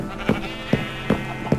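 A sheep in the Minecraft video game bleats four times in an evenly spaced, clear series of short, loud calls, with nothing else audible.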